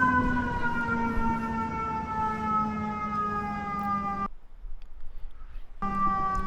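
A loud, steady siren wails with a sustained tone, then cuts out abruptly for over a second before resuming.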